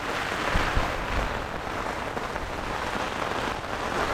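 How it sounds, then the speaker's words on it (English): Steady rain drums on a tent, a dense, even patter that stays close and continuous throughout, with no voices. "The rain is here."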